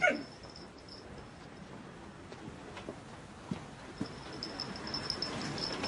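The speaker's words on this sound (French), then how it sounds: "Viens, mon chien." A dog whimpers faintly in an outdoor scene from a French action film, soft high whines recurring at intervals over background noise, with no speech.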